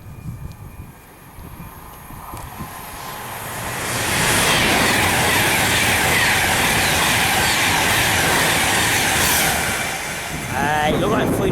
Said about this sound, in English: Next train to pass, the 13:15 Virgin train service to London Euston from Manchester Piccadilly.